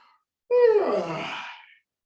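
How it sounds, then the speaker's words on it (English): A person yawns once, a single drawn-out breathy exhale that starts with a brief voiced rise and fades out after about a second, close and alone. "You're gonna turn your head to the left and yawn."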